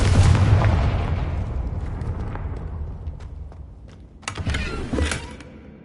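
A Confringo blasting spell goes off in a Harry Potter video game: a broad, booming blast fades over several seconds, then a second burst of crackling explosions flares up near the end. No one speaks.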